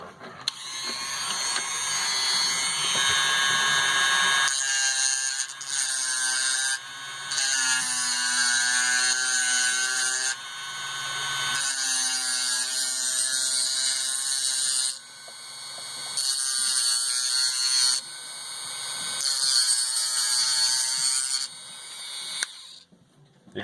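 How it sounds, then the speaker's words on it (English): A rivet being ground off an old Holley fuel pump from a 1969 Camaro, a loud, steady whine from a small rotary grinder that runs in long bursts with brief pauses and shifts in pitch. "You got to grind this off pretty carefully"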